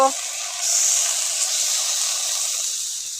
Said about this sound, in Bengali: এবারে অল্প পরিমাণ জল দেব